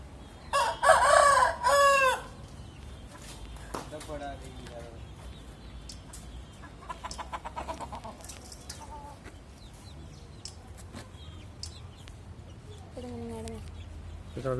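A rooster crows loudly and nearby at the start, followed by scattered clucking from chickens across the yard, with faint conversation in the background.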